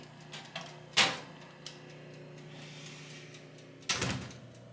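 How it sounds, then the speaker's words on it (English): Convection oven door opened to load a glass soda cup for sublimation, giving two distinct bumps and clunks a few seconds apart over a low steady hum, close and moderately loud. "I'm just going to open up my convention oven and I'm going to put my cup in there."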